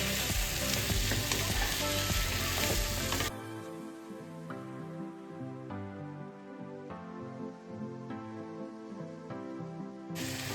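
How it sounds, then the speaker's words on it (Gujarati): Chopped vegetables sautéing in hot oil with a tempering, a loud steady sizzle and intermittent stirring scrapes, with a denser burst at the start before settling into continuous frying. "આ સબ્જીને છે ને આપણે તેલમાં સાતરી લઈશું બે મિનિટ"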